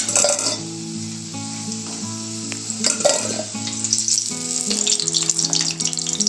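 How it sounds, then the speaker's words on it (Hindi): Potatoes frying to golden brown in hot oil in a kadai for dhaba-style dum aloo, a steady loud sizzle running throughout the clip, with occasional clinks and stirring, no voices. "इसी तरह से अपने सारे आलूओं को सेक के कंप्लीट कर लेंगे, फ्राई कर लेंगे।"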